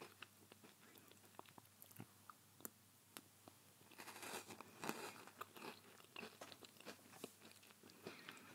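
Mikado chocolate-coated wafer sticks bitten and chewed up close, giving repeated sharp crunches and crisp snaps in an irregular rhythm, with softer chewing between bites and no talking.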